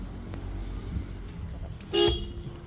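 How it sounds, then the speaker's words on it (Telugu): A single short car horn toot sounds near the end, loud and close, over a low steady rumble. "Horn working."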